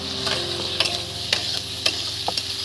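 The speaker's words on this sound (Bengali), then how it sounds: "এবার আলু দিয়ে দিচ্ছি। দেখুন, আলুটা এর সঙ্গে ভেজে নিলে কী হবে, খুব সুন্দর টেস্ট হবে।" Potatoes fry with onions and spices in a pan for ghugni, giving a steady close sizzle broken by regular clicks and scrapes from a stirring utensil.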